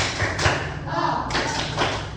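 A classroom group performs a rhythmic hand-clapping routine, with bursts of claps and slaps repeating in a steady pattern, fairly close and loud, with voices mixed in.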